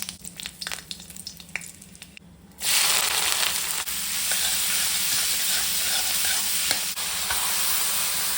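Cumin seeds hit hot mustard oil in a pan while cooking a spicy chicken curry, breaking into a loud, steady sizzle after a quieter stretch of stirring, with a few sharp crackles and pops running through the frying.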